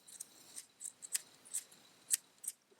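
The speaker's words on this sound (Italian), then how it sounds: "Allora lo riduco la parte eccedente con le forbici" Scissors trim excess fabric from a sewn neckline facing, making quiet, crisp snips, roughly seven or eight cuts in an uneven rhythm, close by and alone.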